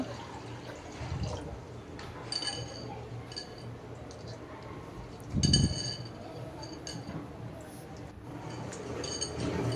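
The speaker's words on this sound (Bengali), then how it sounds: "সাবুদানাটা ভালোভাবে ধুয়ে নিব, ধুয়ে এরপর সিদ্ধ করে নিব।" Sago pearls are swished and rinsed in water, giving soft splashes, light clinks against the bowl and occasional drips, with a few louder bursts of sloshing.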